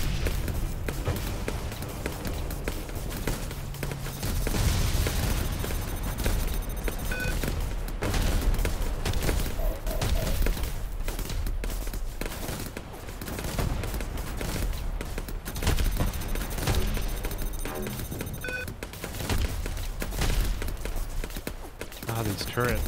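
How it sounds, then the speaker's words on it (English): Rapid turret fire in the space combat game Star Conflict, dense continuous bursts of shots under game music and effects, with someone talking over it throughout. "The turret's firing on it."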